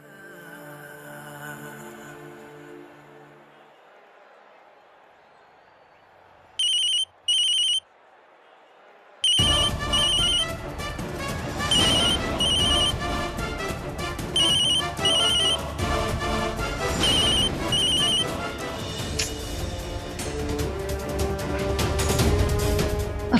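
A telephone rings unanswered in a repeating pattern of short, bright bursts, starting in a quiet room. A loud stretch of music and crowd noise then swells in and carries the ringing on top of it.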